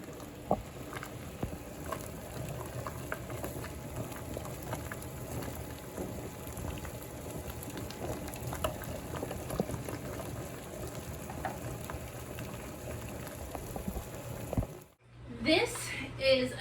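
Water simmering in a double boiler to melt candle wax, a steady low bubbling patter that runs continuously near and moderately loud, cut off briefly near the end before a voice speaks.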